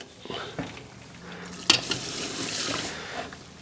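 Malted grain is stirred into water for a whiskey wash, heard as close watery swishing with a sharp clink of utensil against pot partway through, all without voices.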